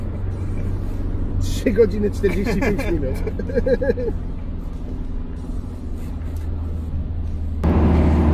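A 1990 Mercedes W124 200D diesel cruising at about 100 km/h in fourth gear, a steady low engine and road drone running under the entire stretch while someone speaks briefly over it.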